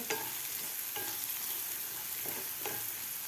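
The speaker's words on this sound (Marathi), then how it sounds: "व्यवस्थित आपल्याला दोन ते तीन मिनिट हे कांदा परतून घ्यायचा आहे" Onion, garlic and green chili sautéing in a pan for Maharashtrian methi zunka, a constant close sizzle with a few scraping strokes of the spatula, and no voices.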